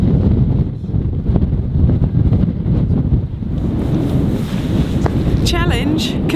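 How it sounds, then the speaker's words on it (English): Strong wind on Holy Island buffets the microphone in a continuous loud, low roar that barely lets up, with faint voices buried in the gusts. "It's really windy."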